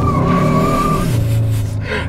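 Front tires of a 2022 Hyundai Sonata N-Line spin and squeal under hard acceleration through a turn, a loud close screech with engine roar beneath that fades after about two seconds.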